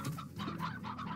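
A hen in the video game Slime Rancher clucks in a short, close run of bright calls lasting about a second, with no voices over it.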